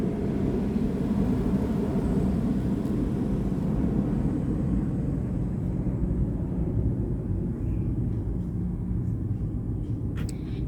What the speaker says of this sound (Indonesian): Lagi ada pesawat risik.